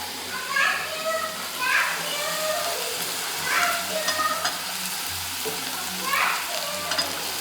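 Pieces frying in a pan for a liver roast with garlic, pepper and cumin, heard as a steady sizzle with repeated scraping stirs at regular intervals, while children play and talk in the background.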